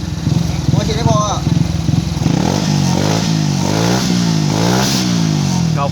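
A tuned motorcycle engine fitted with an APITECH A1 fuel-injection conversion kit revs loudly and close by. It moves from a choppy, pulsing idle into repeated rising and falling throttle blips.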